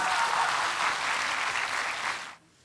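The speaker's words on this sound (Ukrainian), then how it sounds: "Оплески Антону." An audience at an improv comedy show applauds steadily for a couple of seconds, a dense, even clapping that then cuts off sharply.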